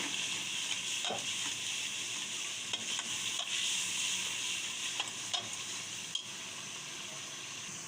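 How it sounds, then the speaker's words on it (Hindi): Spices frying and being stirred in a karahi for beef karahi, a steady, fairly loud sizzle broken by occasional scraping stirs and soft clinks of the utensil. "सारे मिसालों को हमने अच्छी तरह से भून लिया है"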